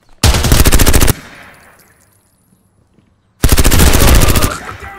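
Automatic gunfire in the video game Zero Hour rattles in two long, loud bursts separated by a quiet gap, each a dense rapid stream of shots.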